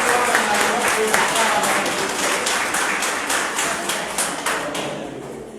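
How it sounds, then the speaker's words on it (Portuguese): An audience at a Spiritist lecture gives a round of applause, a dense, steady wash of clapping with a faint rhythmic pulse that fades slightly toward the end. "Parabéns, uma salva de palmas."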